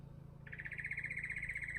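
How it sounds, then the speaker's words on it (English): A songbird sings a steady, rapid run of bright repeated notes, fairly close and clear, starting after a brief pause and continuing over a low background hum in a quiet outdoor setting. "Oh, there's a lovely bird."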